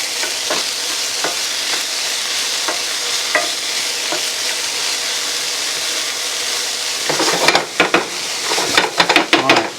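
Chopped garlic sizzles in a pan on a kettle grill, a steady close frying hiss that turns into louder bursts of crackling and scraping toward the end; no talk.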